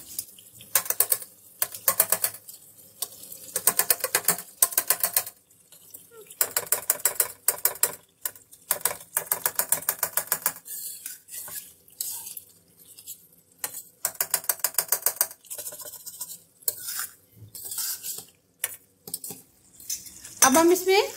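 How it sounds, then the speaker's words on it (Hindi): Tomatoes being mashed in a Peshawar-style Charsi chicken karahi with a metal utensil, making rapid, rhythmic bursts of clacking and scraping against the pan that repeat in loud runs with short pauses, with no talking. "इस तरीके से हम टमाटर को मैश कर देंगे।"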